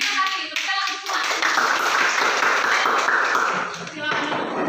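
A classroom of children claps together, led by their teacher, in a dense burst of hand claps that swells after a brief pause and carries on steadily, close and loud.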